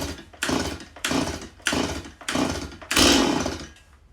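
Stihl MS180c chainsaw with a newly fitted HIPA carburetor, pull-started in a run of five or six sharp rhythmic recoil pulls, the last one catching into a brief louder burst of engine sound, close to the microphone.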